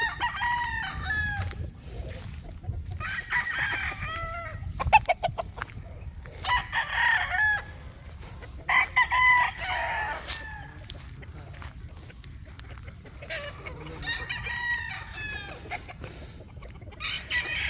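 Chickens and roosters on a farm crow repeatedly and cluck all around, several loud crows rising over steady background clucking, with people's voices faintly mixed in.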